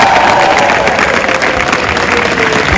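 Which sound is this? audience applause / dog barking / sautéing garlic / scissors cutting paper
audience applause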